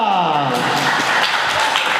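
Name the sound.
audience applause for Pak Roni Surya Putra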